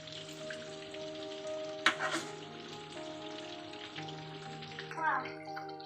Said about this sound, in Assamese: গৰম তেলবিলাক ওপৰৰ পৰা এনেকৈ দিলে জলদি হৈ যায়, ভিতৰলৈ তেলটো সোমাই যায়